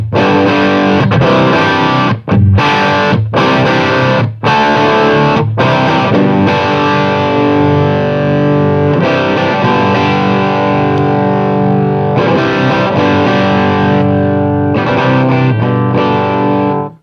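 An electric guitar played through a 1966 Fender Bandmaster amp with both channels running together, loud and continuous with thick distortion and chorus-like shimmer, chords ringing with brief gaps throughout.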